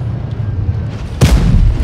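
A tank's main gun fires in a tank combat video game, a single sharp, loud boom that cuts in partway through over steady low engine rumble, with the blast lingering briefly afterward.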